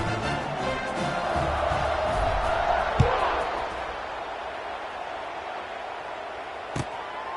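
Steady stadium crowd roar fills an American football video game, a broad continuous din with one sharp thud partway through and a faint knock near the end.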